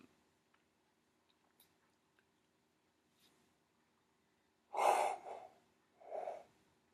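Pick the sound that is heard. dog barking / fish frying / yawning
yawning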